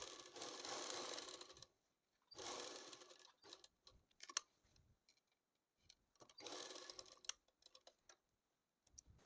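A sewing machine stitching a pocket onto a pant, running in three short bursts of steady whirring separated by pauses filled with small clicks and handling noises, close and quiet.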